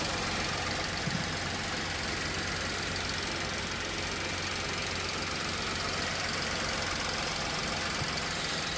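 A 2016 Volkswagen Polo with a 1.2 litre engine idles steadily, a constant close mechanical hum with a faint knocking texture and no change in pitch.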